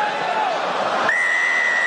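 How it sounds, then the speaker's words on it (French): A referee's whistle during a Top 14 rugby match between Stade Rochelais and RC Toulon, blown for a penalty: a sustained whistle tone that steps up in pitch, heard over steady crowd noise. "Monsieur Kerr qui siffle une nouvelle pénalité"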